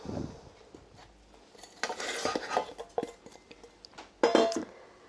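Clinks, taps and scraping of a spoon and containers against a saucepan as brown sugar and other gingerbread ingredients go in, with a couple of sharper knocks, close and fairly quiet.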